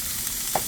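Corn fries in hot sesame oil in a pan, with a constant sizzle and one soft tap from a utensil partway through, and no voices.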